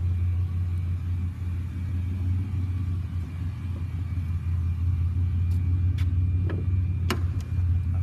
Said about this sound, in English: Also, a small exhaust leak is heard.